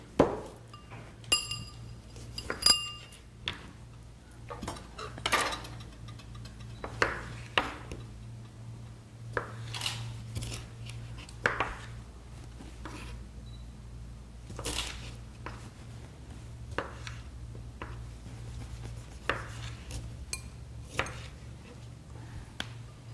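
A knife cuts fresh tomatoes in half or quarters on a board, making scattered crisp taps and clicks at an irregular pace over a low, steady background hum.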